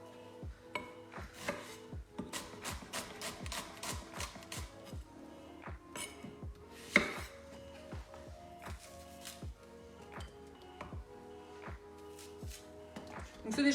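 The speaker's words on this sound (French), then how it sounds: "Et je vais les émincer comme ceci." Onions thinly sliced with a knife on a cutting board, a steady stream of crisp, close chops in quick regular rhythm, with a person talking quietly underneath.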